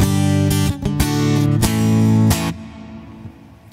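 Strummed acoustic guitar chords through an Axe-Fx III ring out clearly and up close, several bright strums in quick succession, then the last chord fades out alone.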